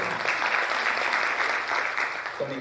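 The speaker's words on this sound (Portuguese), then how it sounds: "Só uma salva de palmas, por gentileza." An audience at a university pedagogical organization meeting gives a steady round of applause, moderately quiet and even throughout, fading slightly near the end.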